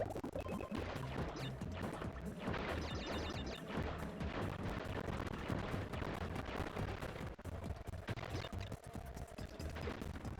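Bombs dropping and exploding in Crash Bandicoot: The Wrath of Cortex, a dense run of booming blasts and crashes layered over game music, loud and continuous without talk.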